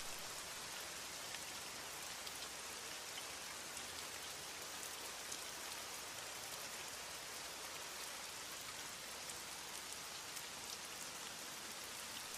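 Rain during a thunderstorm falls in a steady, dense hiss of drops on surfaces, constant and unbroken for the whole stretch with no speech.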